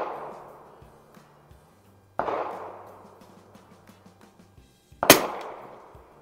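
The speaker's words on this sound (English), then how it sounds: "we're gonna go ahead and shoot these last two, or last one or two, at that one again" Two sharp, loud rifle cracks from a 1961 Winchester 52C US property target rifle with an Unertl scope, fired at an outdoor range several seconds apart. Each crack rings out and decays, with quiet handling clicks between the shots.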